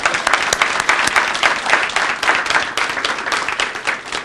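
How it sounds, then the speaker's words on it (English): An audience in a school setting claps loudly and steadily for the school safety patrol, dense applause from a crowd nearby that carries on for the whole stretch, with no talk over it. "Can we give them a round of applause?"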